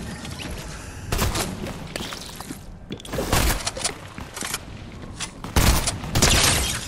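Dense Fortnite gunfire crackles through a busy match, with rapid overlapping shots, bursts and sharp cracks that keep going loud and close, a brief lull in the middle, then heavier volleys.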